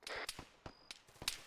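Sharp, snapping cracks of incoming gunfire in a military shooter game, a rapid irregular series of close, bright impacts over a second and a half with no talking.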